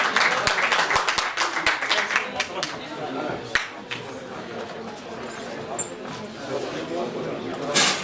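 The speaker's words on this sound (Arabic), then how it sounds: "تصفيق حرة." Applause for a participant at the closing ceremony of a national photography salon in Merouana, Batna, with dense clapping that is loud early on and then thins to scattered claps amid room murmur.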